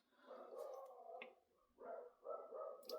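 A dog barks and whines faintly in the background, a few muffled, drawn-out yelping barks in uneven bursts, quiet and somewhat distant.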